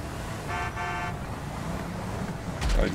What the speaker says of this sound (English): Oh, you honking me?